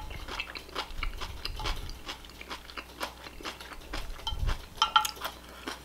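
Someone eats kimchi up close, with soft, uneven crunching and wet chewing bites repeating through a quiet room, and no speech.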